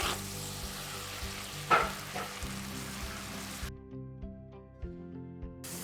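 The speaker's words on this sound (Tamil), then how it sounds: "இப்போ பாருங்கோ சத்தம் கேட்குது தாச்சியில்." Goat blood fry, Jaffna style, sizzling steadily in an oil-filled pan as the last of its water cooks off, with occasional louder crackles and stirring knocks, close up and with no talking.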